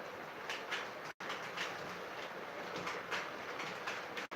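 H10 model train locomotive running on a layout, a steady faint rolling rumble with light clicking of wheels over track, continuous and without voices.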